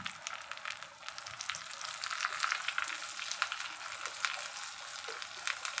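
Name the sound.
garlic frying in tempering oil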